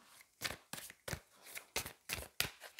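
A deck of tarot cards being shuffled by hand, with a series of about eight crisp riffling bursts in an irregular rhythm, close and fairly quiet, with no talking.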